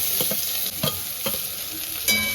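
Spices and chopped chili fried in a pan, a loud continuous sizzle broken by several quick scraping stirs, ending with a sharper burst of frying.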